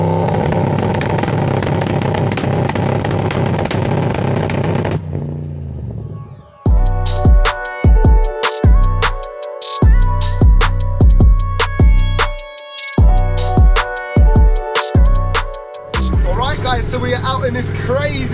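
Home-built 750bhp Lexus LS400 drift car engine roaring loud and close for about five seconds, then giving way to a pounding beat-driven music track.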